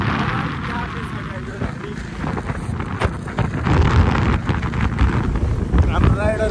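A cool wind buffets the microphone outdoors on a trip in Nepal, a steady rushing roar that swells and gusts throughout, with voices faintly underneath.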